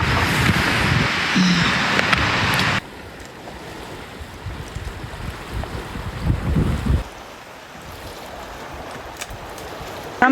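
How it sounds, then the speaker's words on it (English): Strong wind blows outdoors on a mountain backpacking trail near Gunsight Pass in the morning, a loud steady gusting rush buffeting the microphone for the first few seconds, then settling into a lower, fluctuating roar. "It's more windy this morning than it was yesterday."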